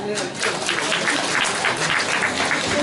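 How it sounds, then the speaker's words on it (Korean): An audience claps warmly to welcome a guest at a 2018 mayoral candidacy press conference in Gumi, South Korea, a dense, steady wash of many hands clapping close by with some crowd noise. "따뜻한 박수로 맞이해 주시면 대단히 고맙겠습니다"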